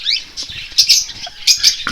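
Pair of caged cockatiels eating seed, with quick crisp cracking and pecking clicks plus light rustling, close up and in short irregular bursts.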